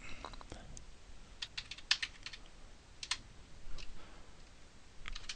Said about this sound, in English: And the user will type this in.